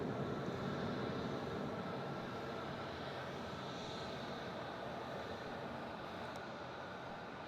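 An airliner climbs away after takeoff from Melbourne Airport, a steady distant engine roar holding evenly and fading slightly, with no voices.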